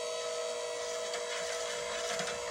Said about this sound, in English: So just get an electric whisk.